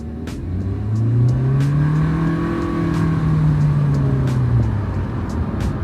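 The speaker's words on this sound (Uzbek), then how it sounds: "0 dan 100 gacha tortishni ko'ramiz" A Kia Sonet car accelerates hard from standstill to 100 km/h, its engine note climbing in pitch through several rising revs with gear changes between them, loud and close from inside the cabin, with no speech.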